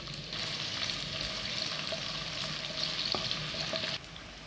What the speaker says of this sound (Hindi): ऑयल हमारे अच्छे से गर्म हो गया और अब मैं इसमें डालूंगी व्हाइट वाली प्याज। प्याज को हल्का सा मैं सोते कर लूंगी।